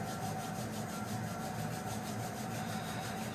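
Palms rubbing briskly together during a cool-down at the end of a full-body Pilates session, a steady close swishing friction that runs without pause for a few seconds with no voices.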